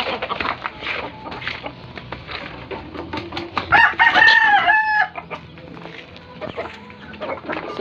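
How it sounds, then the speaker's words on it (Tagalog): A rooster crows loudly and close in the middle, surrounded by repeated clucking from chickens and other farmyard noise, with some faint voices in the background. "Ayan, may manok na dito."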